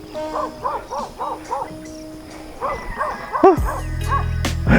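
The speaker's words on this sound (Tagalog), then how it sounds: "Yan siguro yung nanay ng nung tuta na nakita natin diyan." A mother dog barks in a mountain setting, a quick run of repeated close barks followed by a few more yips and a whimpering rise, fairly loud in the open air.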